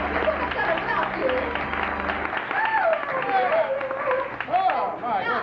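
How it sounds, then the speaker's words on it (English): A theater audience breaks into dense clapping and cheering, loud and sustained, with excited voices and whoops mixed into the applause. "Give yourselves a round of applause."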